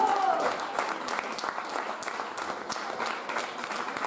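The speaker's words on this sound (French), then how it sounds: "sous les applaudissements" An audience applauds as a jury member is called up at the Miss Beauté Franche-Comté 2019 pageant. Even, moderately loud clapping continues throughout with a slight swell at the start.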